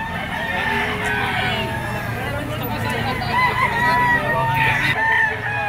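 A yellow-legged bull stag gamefowl crows amid a crowded, busy setting with background chatter and other fowl clucking, the call rising over steady babble.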